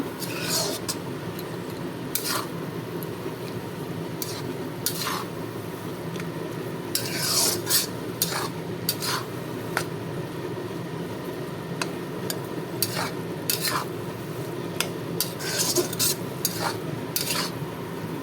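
Soaked leafy greens are stirred in a pan with repeated scraping, rubbing strokes and occasional utensil clicks against the metal, over a faint sizzle. The sound is close and steady, with brief bursts of louder scraping.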